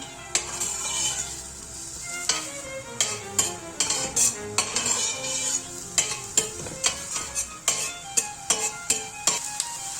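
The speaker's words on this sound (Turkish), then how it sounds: "Soğanlarımızı güzelce kavuralım." Onions sautéing in a pot, a steady sizzle punctuated by repeated sharp clinks and scrapes of a spoon stirring against the metal, close and rhythmic, with no talking.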